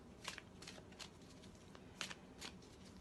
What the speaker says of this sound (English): So I'm going to shuffle these ones first